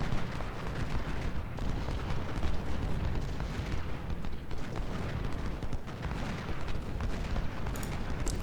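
Artillery fire rumbles through a Gettysburg battle in the Civil War strategy game Ultimate General: Civil War, a continuous low roar of booming cannon and distant gunfire with no pauses.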